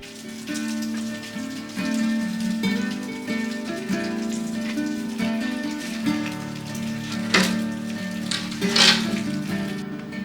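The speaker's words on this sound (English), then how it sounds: "Of course it's raining." Rain falls steadily on a garden beside a small homemade greenhouse, a dense, even patter with a few brighter drips, mixed with a steady tonal background.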